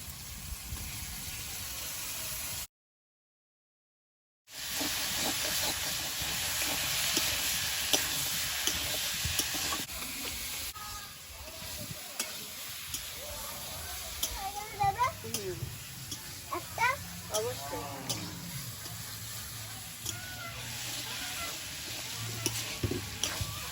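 Potatoes for aloo dum are stirred into frying masala in a village kitchen, giving a loud sizzle that softens into quieter frying with scraping and clinks, after a brief silent gap, while faint voices are heard in the background.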